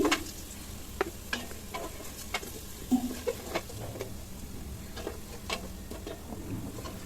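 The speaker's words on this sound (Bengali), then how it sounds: "আলুগুলো হলুদ লবণ দিয়ে একটু বেজে নিচ্ছি" Potato pieces frying in oil with turmeric and salt, a soft steady sizzle punctuated by light ticks and clinks of a utensil stirring the pan, fairly quiet and with no talking.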